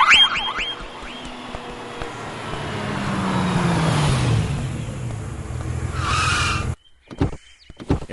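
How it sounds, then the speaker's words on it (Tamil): A car braking hard with its tires skidding, a drawn-out screech that sweeps downward and swells over several seconds before cutting off abruptly, loud and close. "என்ன டிரைவர் இந்த பிரேக் அடிக்கிற?"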